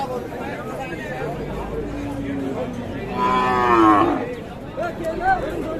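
Cattle, local desi cows and calves, moo at the Ambari cattle market in Dinajpur, with one loud drawn-out low near the middle, rising above a constant hubbub of crowd chatter.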